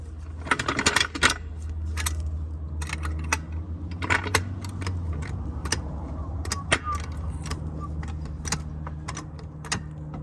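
Car jack cranked to lift a 2006 Toyota Corolla Verso, a quiet series of metallic clicks and rattles in an irregular rhythm over a low idling hum, with no talking.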